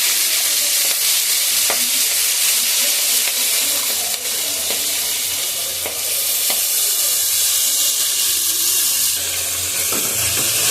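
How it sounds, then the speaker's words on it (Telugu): Onions and vegetable curry fry in a pan with a loud, steady close sizzle, broken by occasional scraping and clinking from stirring, with no talking. "ఉల్లిగడ్డ అయితే మంచిగా మారింది, కూర వేస్తున్నాను"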